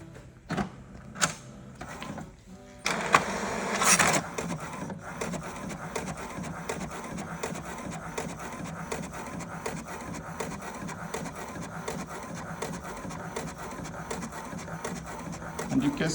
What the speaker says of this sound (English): Here we have some picture with a lot of colors, so let's try to print it.